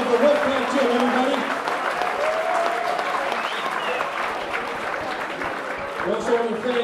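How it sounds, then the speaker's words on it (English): Audience applause fills a boxing arena at a Golden Gloves event, steady dense clapping with some crowd noise, loud and close, with voices heard over it throughout. "Let's get a round of applause to Chuck Nietzsche, the owner of the Wolfpack Gym, everybody."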